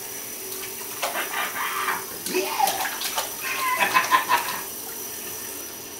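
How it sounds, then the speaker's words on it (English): Bathwater sloshing and splashing in a tub, with irregular bursts of splashes building toward the end over a steady background of running water; a brief voice is heard once. "splash it. There you go,"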